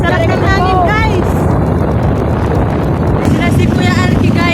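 Strong wind buffets the microphone during an outdoor boat ride, a loud, constant rushing roar with people talking over it.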